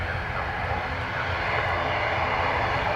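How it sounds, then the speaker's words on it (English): An ATR turboprop airliner at Dublin Airport on a wet, gusty day, its engines a steady, loud broadband roar with a low throbbing drone, holding constant and close throughout. "Little ATR going to be heading to Edinburgh."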